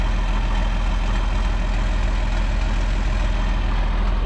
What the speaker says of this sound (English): all it is just a big old industrial sized vacuum cleaner. It sucks the grain out of the bin via these pipes